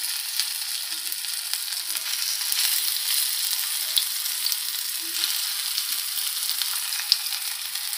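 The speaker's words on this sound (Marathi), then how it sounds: "आपण तेल टाकलेलं आहे। आता आपण हे तळून घेणार आहोत।" Alu vadi shallow-fries in oil on a flat tawa, giving a continuous bright sizzling hiss with a few faint pops and crackles, close and steady with no voices.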